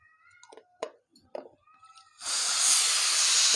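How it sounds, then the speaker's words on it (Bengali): A pressure cooker cooking chana dal with drumstick vegetable lets out a loud, steady rush of hissing steam. Faint thin squeaks and clicks come first. "প্রেসার কুকারটা বন্ধ করে দিই। 4-5টা সিটি হয়ে গেছে।"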